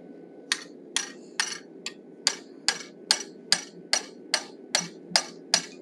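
Hammer striking a chisel-like tool to cut the mouth into a hand-forged steel wolf head, a dozen sharp, evenly spaced metallic blows ringing close over a steady background hum.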